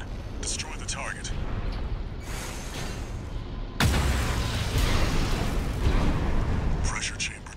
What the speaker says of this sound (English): Pressure chamber destroyed.